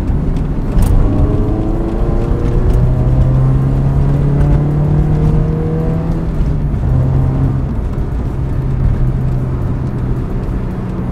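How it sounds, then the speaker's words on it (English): A car engine with an aftermarket intake inlet tube and drop-in filter held at open throttle, a loud continuous roar with a rising and falling tone, close by and alone. "Let me like open the throttle a little bit. It's gonna be basically open throttle."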